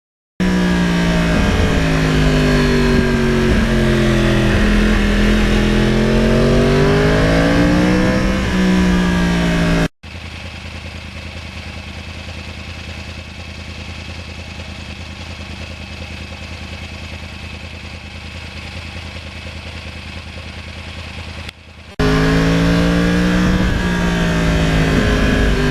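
A 2009 Yamaha R1 motorcycle with a crossplane engine revs loudly and close, its pitch rising and falling in sweeps, then gives way to a steadier, duller engine drone before the revving returns.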